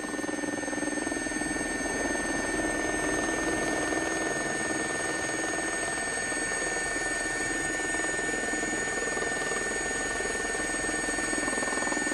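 A JRX Gazelle helicopter in flight over jungle during sling-loading work, heard as a steady, continuous cabin drone with constant high tonal whine from the turbine and rotor, even and unbroken throughout, with no talk.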